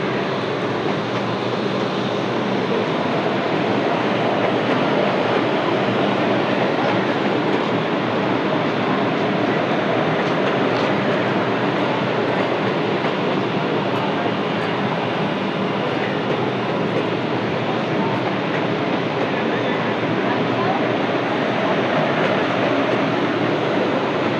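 Okha–Ahmedabad Vande Bharat express pulling out of Viramgam Junction, a loud, steady broadband rush of rolling train noise holding nearly unchanged for the whole stretch, with no voices.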